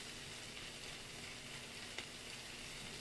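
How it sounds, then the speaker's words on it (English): Vegetables, with pork chops and mushrooms, sizzling and frying in a pan while being moved around, a continuous close hiss with one soft scrape of stirring. "So I'm just going to kind of move them around in the pan just a wee bit."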